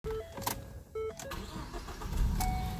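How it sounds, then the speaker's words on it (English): A Ford Focus engine cranks in a few short bursts and then catches, settling into a rough idle close by, faint overall and with no speech. "And voila, our car has started."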